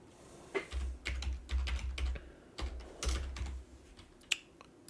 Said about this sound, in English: I can just quickly navigate GPA by typing in the issue number at the top